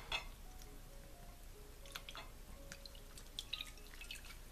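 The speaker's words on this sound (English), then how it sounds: "I'll put them all into the tea bath" Embroidery threads soaking in a tea dye bath let fall faint, scattered drips and small watery splashes, quiet and close, with no speech.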